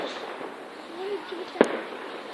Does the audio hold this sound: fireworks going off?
yes